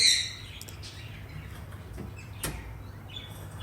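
A colorful pet bird, one of a breeder's young males, gives a few short, high chirps at the start, then quieter sporadic calls over a low, steady indoor hum.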